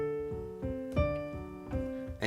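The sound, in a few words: piano playing Moonlight Sonata adagio passage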